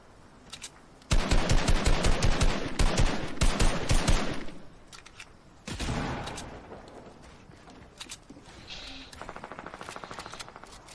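Rapid bursts of automatic gunfire in a multiplayer video game ring out loud and close in long rattling volleys, then fade into scattered shots and softer bursts, with a voice talking faintly underneath.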